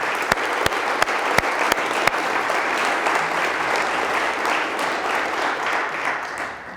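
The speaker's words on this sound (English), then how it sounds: "So let's give those coaches a round of applause." An audience at a Hall of Fame ceremony applauds coaches, a dense wash of clapping that starts with a few sharp claps, holds steady, and tapers slightly at the end.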